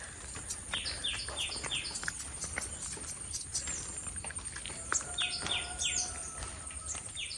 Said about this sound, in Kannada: ಇಲ್ಲಿ ಹಕ್ಕಿಗಳು ಭಾರಿ ಓಡ್ತಾ ಉಂಟು ಭಾರಿ ಖುಷಿ